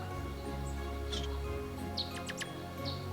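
Faint birds chirp in short scattered tweets over a low steady background hum, a few separate calls spaced across a quiet moment with no one speaking.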